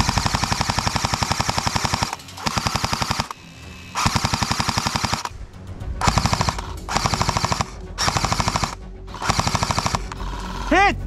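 An S&T MK46 airsoft machine gun fires in an airsoft game, long rapid bursts of close mechanical rattling separated by short pauses, with a voice briefly at the end.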